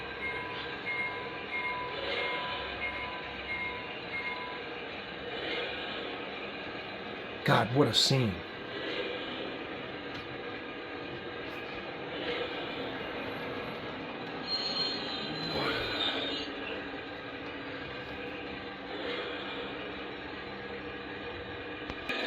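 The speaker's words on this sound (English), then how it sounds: "Bringing the work train in." A model work train rumbles steadily along the rails of a model railroad, with a sharp burst of wheel squeal partway through and a second screech later; people talk over the noise.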